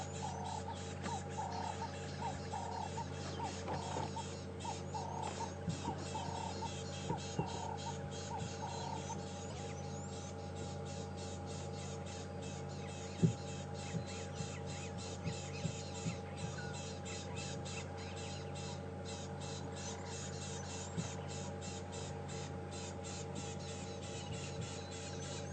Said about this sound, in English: can't see any of these birds, but we can certainly hear them